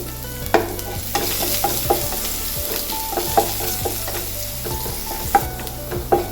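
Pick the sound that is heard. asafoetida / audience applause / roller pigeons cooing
asafoetida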